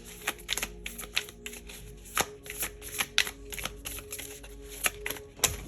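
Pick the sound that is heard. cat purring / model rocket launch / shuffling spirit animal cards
shuffling spirit animal cards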